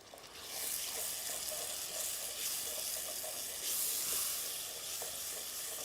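Chopped tomato sautéing in a pan as the base of a shellfish feijoada, a steady, even sizzle that swells slightly and carries on without pause, close and fairly loud, with no talking.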